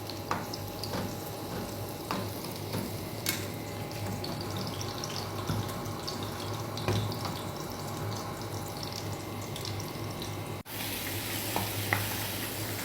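Chili peppers frying in a pan for an ugali meal, a soft continuous sizzle with occasional stirring clinks and scrapes close by, with no talking over it.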